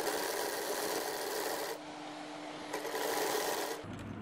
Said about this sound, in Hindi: चलिए अब हम सिलाई लगाते हैं।